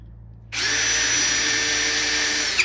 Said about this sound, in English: Now I'm gonna pre-drill these